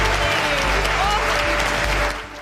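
Portrait artists in a painting competition studio applaud one another, a brisk burst of clapping from a small group that holds steady and then fades off near the end, with a low hum beneath.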